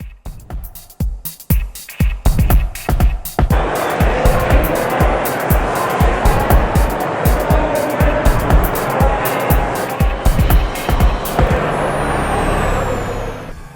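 Moto3 racing motorcycles with 250cc engines, small lightweight bikes under 200 pounds, roar past on a racetrack, loud sustained engine noise broken by sharp rhythmic bursts, with a rising whine trailing off near the end.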